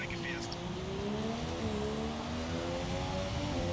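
A Formula 1 car in F1 2017 opens up to full throttle after leaving the pits at Monaco, its high engine whine climbing steadily and loud throughout, with a voice talking over it.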